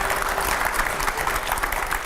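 Audience applause in a studio setting, a steady dense wash of many hands clapping at moderate loudness, filling the whole stretch without a break and with no talk over it.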